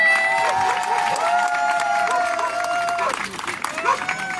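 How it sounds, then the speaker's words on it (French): A protest crowd against the A51 motorway and the 2030 Winter Olympics claps and cheers steadily, with whistles and shouting voices mixed into the dense, loud hubbub throughout. "Applaudissez, vous applaudissez."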